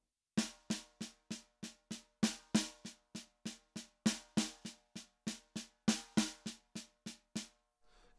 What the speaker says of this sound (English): I'm going to take the practice pad off and play it on the snare drum